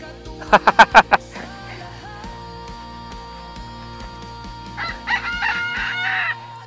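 A rooster crows loudly nearby, one long cock-a-doodle-doo, followed by softer clucking and a second shorter call, over faint background hum.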